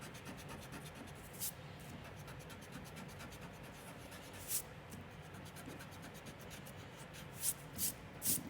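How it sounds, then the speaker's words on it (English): A pencil drawing of Viking shields on paper is erased with an eraser, giving a faint, steady scratchy rubbing with a few soft taps scattered through it. "So I'm going to erase out the inside of each shield here."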